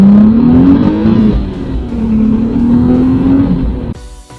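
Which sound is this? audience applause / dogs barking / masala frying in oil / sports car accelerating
sports car accelerating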